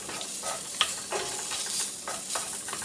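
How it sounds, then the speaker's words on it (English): Sirloin beef fat sizzling in a skillet, a steady close frying hiss that swells in soft waves as the pieces are moved around, with no voices. "I'm going to get some of that fat going here in the skillet."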